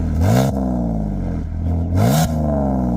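A 2006 BMW X3 E83 3.0i with its exhaust valve open gives two quick, loud blips of revving, each engine note rising sharply then falling back to idle, close by.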